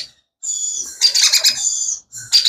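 Pineapple conure parrots giving shrill, rasping calls in two bursts with a short gap, close and loud, no talk over them.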